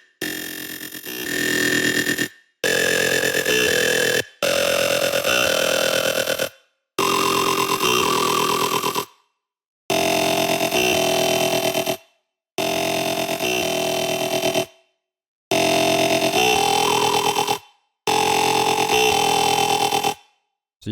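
Aggressive jump up drum and bass synth bass made in Serum, played as eight loud separated notes whose gritty, buzzing tone shifts from note to note as the filter cutoff moves, with no talk.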